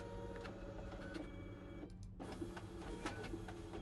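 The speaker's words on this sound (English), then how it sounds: "we can click Next Batch to start scanning ballots" A ballot scanner with an automatic document feeder pulls ballots through in a steady mechanical whir and rattle, with a brief dip partway through, close and continuous with no talking.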